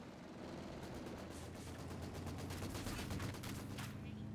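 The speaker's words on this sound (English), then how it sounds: "Vickers firing away, hitting the Volksgrenadiers." Vickers machine gun fire in a Company of Heroes 2 battle, a rapid continuous rattle of bursts over a dense wash of combat noise, with no clear talking.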